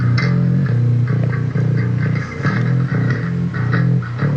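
Bass guitar from a band mix plays a steady run of low, rounded notes, fairly clean with only slight grit, continuous and prominent throughout with other instruments faintly underneath.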